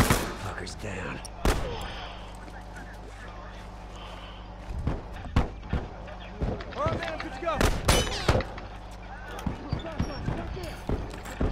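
Gunfire breaks out in a multiplayer match of The Last of Us: sharp loud bursts of shots and impacts come in clusters over a low game drone, with players talking throughout.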